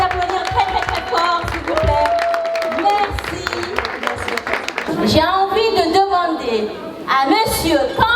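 An audience at a stage event in Burkina Faso claps and cheers loudly while a presenter speaks in French over the applause.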